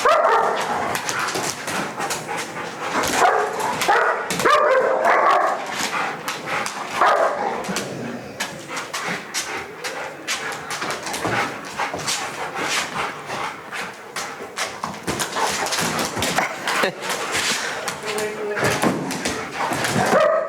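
Several dogs bark and whimper while a young dog is brought around them after a board-and-train program, a steady, busy mix of yips and barks that stays fairly loud and close throughout.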